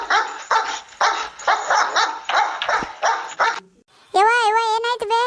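A dog barks loudly and close in a rapid series of repeated barks, then breaks into high whining cries.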